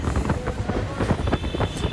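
The Okha–Ernakulam train No 16337 runs along the line, heard from on board as a steady low rumble and rattle of the carriage with wind noise buffeting the microphone, continuous and fairly loud with no voices.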